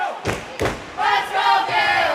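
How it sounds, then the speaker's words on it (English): A crowd at a youth lacrosse game roars and shouts, a couple of sharp bursts followed by sustained cheering, close and loud. "Crowd getting into it."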